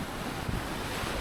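Ocean waves washing onto a Dutch beach, a steady broadband rush of surf mixed with wind buffeting the microphone, continuous and fairly close with no voices.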